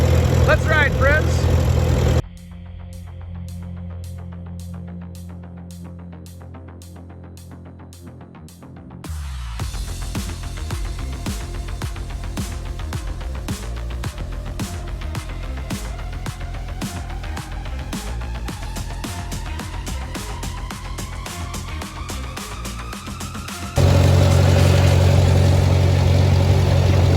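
A Farmall tractor engine runs at a steady, throbbing idle close by, with a pulsing beat that shifts in pitch as it revs up slightly. Voices are heard over it at times.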